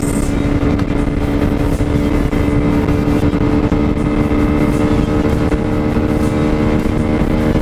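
Lifan KP Mini 150cc motorcycle engine running hard in fourth gear on a speed run, a loud, steady buzzing drone with a constant pitch throughout, close to the microphone.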